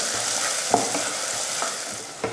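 Onion, curry leaves, fenugreek and garlic sauté in a pan with a constant close sizzle, broken by a few soft clicks and scrapes of a spoon stirring, and no voices.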